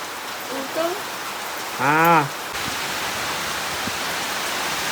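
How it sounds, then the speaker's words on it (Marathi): Heavy rain with wind in a village: a steady, dense hiss of downpour runs through the whole stretch, with a brief voice heard early on. "पाऊस आणि वारा एकदम जोरात आलेला आहे."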